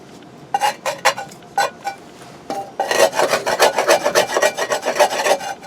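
Harsh rhythmic scraping of burnt-on residue from a blackened camp cooking pot, starting with a few separate strokes, then speeding into a fast continuous run of close scrapes, with no talk.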